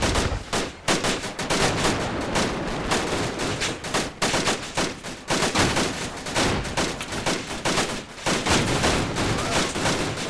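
Nonstop automatic gunfire in the ArmA 2 Operation Arrowhead military shooter, dense overlapping rifle and machine-gun bursts rattling loudly without a break.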